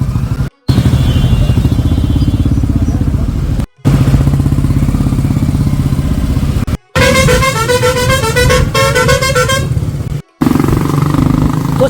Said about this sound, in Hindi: बहुत से लोग ऐसे जो हॉर्न बजा रहे हैं